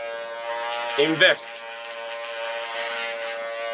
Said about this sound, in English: what do they call this? Hair clipper.